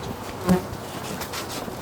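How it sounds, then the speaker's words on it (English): Bees buzzing around beehives: a dense, steady insect hum with one louder close pass near the start, continuous and unbroken, with no talking. "We got lots of bees."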